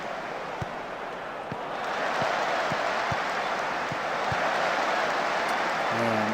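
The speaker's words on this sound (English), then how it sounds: "This is the biggest crowd we've seen in our stadium." A large stadium crowd in the Football Manager 2018 video game roars and applauds steadily at an FA Cup match against Sunderland, a broad wash of cheering that swells louder partway through, with a few soft thumps beneath.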